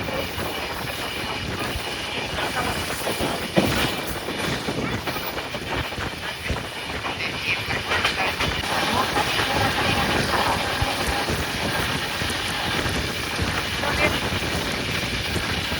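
Inside a crowded passenger train carriage on an Indian express run, a steady broadband rumble and rattle of the moving coach continues throughout, with wind noise and scattered background voices.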